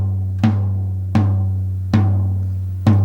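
A tom drum is struck four times at a steady pace while its tuning key rods are adjusted, each hit ringing with a sustained low resonant tone that decays before the next strike.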